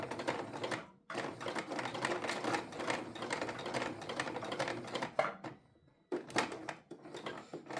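A sewing machine stitches a thick tote bag in long, rapid bursts of needle clatter, with a short pause near the start and a longer one before a final burst, close and clear with no talking.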